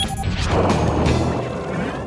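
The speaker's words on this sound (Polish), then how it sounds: "musi pan wyważyć drzwi dzwonem nurkowym" A loud crashing smash as a diving bell breaks open an underwater door in a cartoon, with a heavy low rumble and clatter that lingers and slowly fades.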